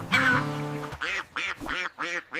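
A duck quacks close by, a long drawn-out call followed by four short rhythmic quacks in quick succession, loud and clear with nothing else over it.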